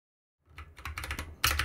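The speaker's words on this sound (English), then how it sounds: "I keep hitting like the wrong key on my keyboard" Typing on a computer keyboard, a close burst of quick key clicks that starts after a brief silence and ends with a louder cluster of strikes.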